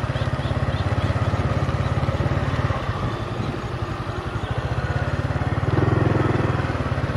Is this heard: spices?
no